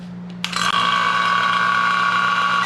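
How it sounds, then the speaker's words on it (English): A vacuum pump starts with a brief clatter and then runs steadily, drawing vacuum on the A/C system of an old Cadillac fitted with an orifice tube and accumulator. It gives a continuous, loud, even mechanical hum and whine with no talk over it. "So let's turn on the pump."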